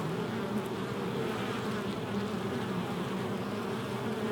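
Many honeybees buzz continuously around a hive entrance, a dense, steady droning hum with no voices.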